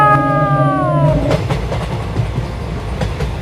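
A train runs along the rails, opening with a brief tonal horn or whistle that gives way to a loud, close rumble with rhythmic clattering wheel noise.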